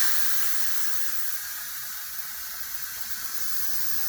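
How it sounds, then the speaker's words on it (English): Steam vents from a rice cooker just after cooking, a steady loud hiss that holds evenly for several seconds with no voices. "All we have to do now is let the steam out."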